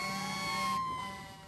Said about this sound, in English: So many sirens sounding last night down Dixie Highway during the PRP Fire Truck Parade